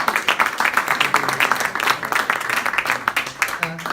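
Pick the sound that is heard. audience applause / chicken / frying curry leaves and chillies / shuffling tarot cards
audience applause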